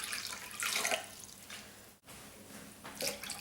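Cold water pours from a measuring jug into a bowl, a splashing gush that breaks briefly around the middle, then resumes, fairly quiet with no talking.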